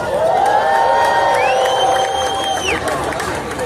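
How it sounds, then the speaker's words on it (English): Loud rally crowd in D.C. cheering and whooping for reparations, a dense continuous roar with shouts and voices throughout. "Give yourselves another round of applause."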